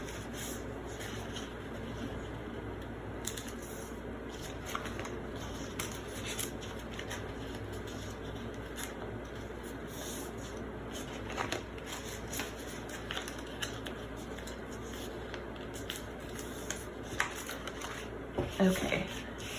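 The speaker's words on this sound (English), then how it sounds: "I'm going to flip it over and I'm gonna fold it on the pencil" Paper being folded along a pencil line for a toilet paper roll relief sculpture gives soft, close rustles and crinkles, continuous and quiet, with a few sharper creasing scrapes near the end.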